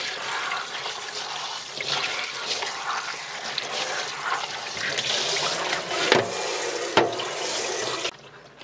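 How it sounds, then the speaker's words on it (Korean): A raw octopus is rinsed in water in a kitchen sink before boiling, with continuous splashing and running water close by that stops abruptly at the end. "이렇게 물에 한번 헹구겠습니다."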